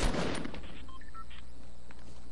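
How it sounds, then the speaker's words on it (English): Gunfire in Fortnite Battle Royale, with a sharp loud burst of shots at the start and a brief electronic tone, then dense in-game noise with softer blasts continuing. "I'm getting sniped at."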